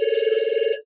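A telephone rings during an interview at Cru Café, one short burst of a trilling electronic ring, close and clear, stopping abruptly after under a second.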